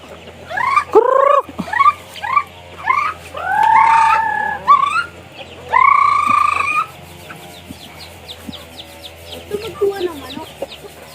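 Chickens cluck and squawk nearby in a series of loud, rising calls, with fainter clucking and chirps continuing afterward.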